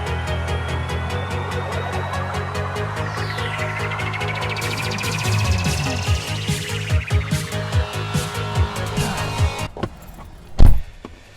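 Car interior noise while driving: a steady road and engine hum, a rising whine from about midway, then a run of rhythmic thumps and a sharp clunk near the end, close and with no talk.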